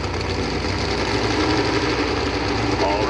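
A pulling tractor's engine roars at a steady high rev at a truck and tractor pull, a constant loud, dense drone, with an announcer talking over it.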